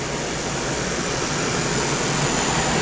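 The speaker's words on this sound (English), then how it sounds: "Got the box fan here running to cool the pump as if it's driving down the road." A box fan runs steadily beside a fuel pump on a test bench, cooling it as if the vehicle were driving; a constant broadband whoosh with a low hum, loud and unchanging, no talk.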